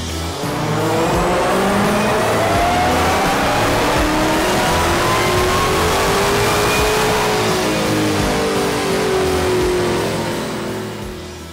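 A Dodge Challenger SRT Demon engine on a dyno, running 100 octane fuel, roars at full throttle, pitch climbing steadily through a long, loud sustained rev before easing off at the end.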